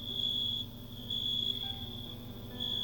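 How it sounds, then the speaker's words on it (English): Cricket chirping used as a sound effect: a high, sustained trill in three pulsed bursts separated by short pauses, fairly loud and steady over a low background hum, with no talking. "That cricket sound right there is the soundtrack of a new YouTuber's life."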